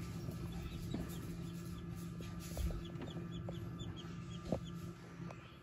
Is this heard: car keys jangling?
no